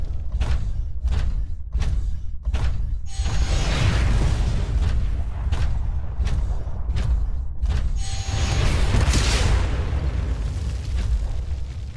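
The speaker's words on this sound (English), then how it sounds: "Move down the hallway while avoiding the rockets." Rocket explosions in the Titanfall video game, with a steady run of heavy booming blasts over a continuous low rumble, loud and close, some hits spaced evenly and others piling together.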